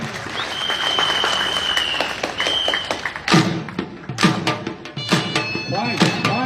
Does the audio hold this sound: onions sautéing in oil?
no